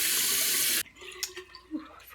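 Running tap water pours steadily into a sink while someone rinses their face, loud broadband rush for under a second, then it stops, leaving quiet drips and faint small splashes.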